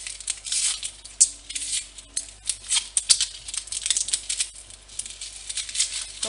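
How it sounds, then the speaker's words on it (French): An onion is peeled with a knife for tartiflette, with close, crisp papery crackles, scrapes and rustles in quick irregular bursts. "Ensuite, on va venir éplucher l'oignon."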